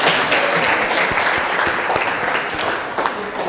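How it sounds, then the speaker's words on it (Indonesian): Students clapping in a classroom, a brisk dense burst of many hands that fills the whole moment, close and loud, with a few sharper individual claps standing out. "Tepuk tangan buat."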